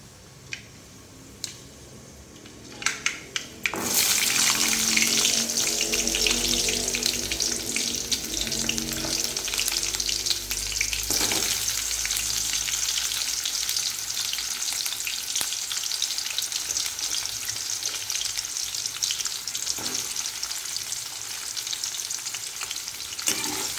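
Small onions go into hot oil with fenugreek and fennel seeds for a village-style dry fish curry. A few light clicks come first, then a loud, steady sizzle and crackle that lasts to the end.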